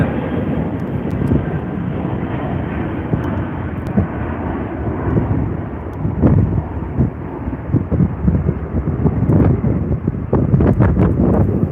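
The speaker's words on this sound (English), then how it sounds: "Airbus A330 200. I believe this one is departing" An Airbus A330-200 jet departing, heard as a loud, broad engine roar that swells and buffets under gusty wind noise on the microphone, with no speech.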